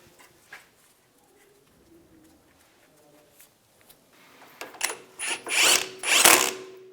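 A ratchet snugs a castle nut onto a tie rod stud on a 1998-2002 Lincoln Navigator steering linkage: quiet at first, then several close, loud bursts of ratcheting clicks in the last couple of seconds.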